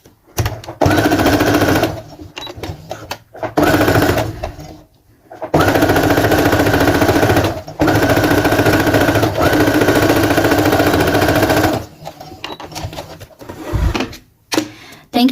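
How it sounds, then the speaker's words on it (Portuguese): Sewing machine stitching a fleece coat seam, loud close bursts of rapid stitching in several runs separated by short pauses, with one long continuous stretch in the middle. "agora você faz a costurinha pra unir"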